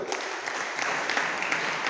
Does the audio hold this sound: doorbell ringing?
no